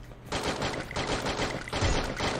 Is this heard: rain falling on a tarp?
no